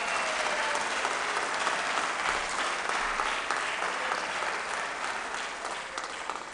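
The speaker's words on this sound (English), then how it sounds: "You can give her a round of applause." Steady, dense applause from an audience at an MLK birthday celebration held at Temple Emeth, sustained and even throughout with no voices rising above it.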